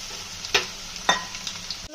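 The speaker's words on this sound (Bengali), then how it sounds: "আর এদিকে সবজিটাও ভাজা হয়ে এসেছে।" Mixed vegetables with capsicum sizzling in a pan, a steady frying hiss broken by two short scraping stirs, close and moderately loud with no voices.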